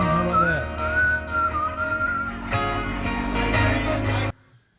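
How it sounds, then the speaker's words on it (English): A whistled melody from a live show recording in Myrtle Beach carries on for about four seconds with sustained, wavering tones over band accompaniment, then cuts off abruptly into near silence. "The rare whistle solo there on a Myrtle Beach show"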